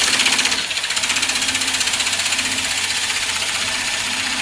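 A steady, fast whirring drone of a wood lathe spinning a pen blank against sanding material, with a dense abrasive hiss, continuous and loud throughout.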